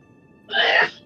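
A single close, loud sneeze bursts out for about half a second during a tabletop role-playing game session, followed by quiet.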